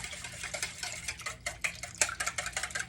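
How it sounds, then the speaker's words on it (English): Batter of milk and eggs whisked in a bowl for frying alligator legs, a quick, rhythmic clatter of the whisk against the bowl, close and fairly quiet, with no talking. "And we're just going to whisk"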